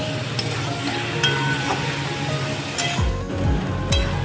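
Spice masala being stir-fried with potatoes in a pan for aloo dum, with a steady sizzle and stirring scrapes, then louder rhythmic scrapes of the spatula toward the end.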